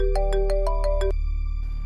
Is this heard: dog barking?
no